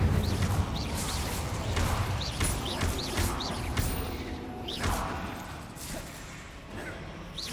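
Incendio fire spells from Hogwarts Legacy fire off in a quick series of sharp whooshing bursts and impacts during a battle, each cast short and punchy against a busy game background.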